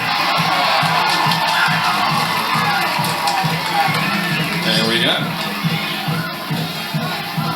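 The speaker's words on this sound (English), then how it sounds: "you hear that applause?" A crowd cheers and shouts at a 2002 high school football game between A L Brown and Smoky Mountain, a steady roar under commentators talking.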